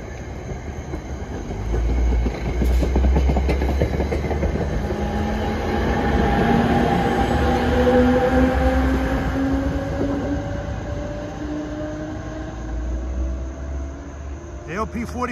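NJ Transit P45DP locomotive running in electric mode rolls past at close range, a loud sustained rumble with rising and falling whine tones and rail clatter across the pass.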